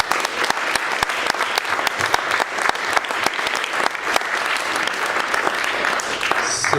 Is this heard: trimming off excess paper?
no